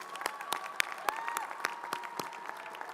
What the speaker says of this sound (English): Would all of our Honors College students please stand and join me in a round of applause for them?